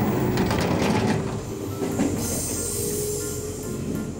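Electric train in a cartoon set at a train factory, rolling with a steady rumble, wheel squeal and faint clickety-clack, loud and continuous with no talk.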